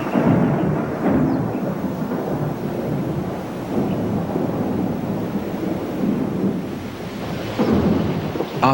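A thunderstorm with heavy rain at the start of the wet season, a continuous loud roar of rain and rolling thunder with gusty rumbles swelling and easing, no voices.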